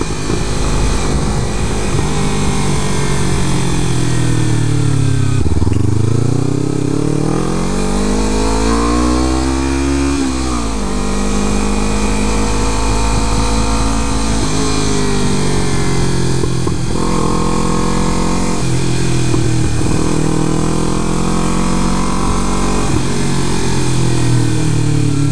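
A small sportbike rides on a freeway toward Burbank, its engine loud and close, revving up and down in long rising and falling sweeps under constant road and wind rush.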